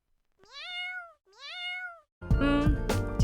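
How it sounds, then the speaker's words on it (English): A cat gives two clear, drawn-out meows close by, followed by a burst of loud music. "A cat meows."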